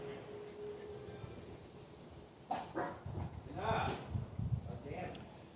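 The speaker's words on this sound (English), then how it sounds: "The dogs suck. They bark too much." A dog barks a few times in a quick cluster over steady background noise, mixed with faint voices.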